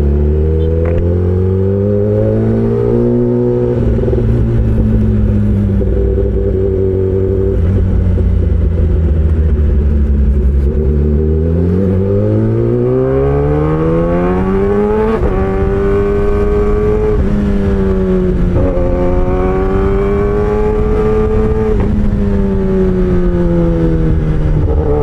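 A Kawasaki ZX-10R sport motorcycle riding on a road, its engine note loud and close, climbing and falling through gear changes with sustained rising and dropping pitch sweeps over steady road noise.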